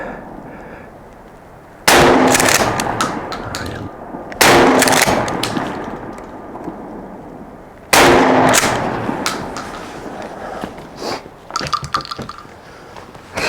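Beretta 1301 Tactical shotgun firing buckshot and slugs at 25 yards outdoors, three loud, sharp blasts spaced a few seconds apart, each with a decaying echo, then fainter clicks and handling noise.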